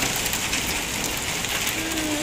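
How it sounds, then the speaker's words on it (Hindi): Hailstones coming down heavily during a storm in Dubai, a dense, constant clatter and hiss like a hard downpour, loud and unbroken, with no voices. "ये देखिए कितनी तेज़ी के साथ ओले ओले क्या कहते हैं गिर रहे हैं।"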